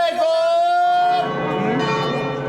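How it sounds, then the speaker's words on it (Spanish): Church bells ring out over the cathedral square in Siracusa, Sicily, sustained metallic tones carrying through a busy outdoor crowd with voices and festival noise underneath. "Y ahora están sonando las campanas porque va a salir la Santa"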